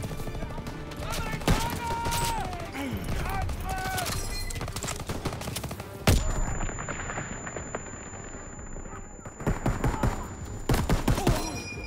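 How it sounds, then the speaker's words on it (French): Dense machine gun fire and scattered gunshots in the World War II shooter game Call of Duty WWII, during a Normandy landing battle. Rapid bursts and loud blasts keep coming throughout, with a few voices heard faintly in the mix. "ces mitrailleuses tirent sur notre position"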